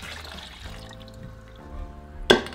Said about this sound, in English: So I'm just going to add my water into my blender.